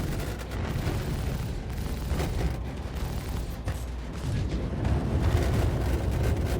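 Heavy cannon fire pounds a Crusader MSR's hull in Star Citizen, a dense, continuous barrage of booms and rumbling impacts that stays loud throughout, with no talking.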